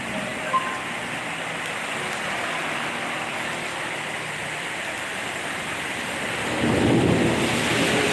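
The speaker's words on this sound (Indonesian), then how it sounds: "Hujannya deras juga ya." Heavy rain pours steadily with a constant hiss, and a deep rumble of thunder swells near the end.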